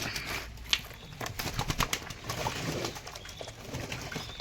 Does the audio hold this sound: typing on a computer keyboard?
no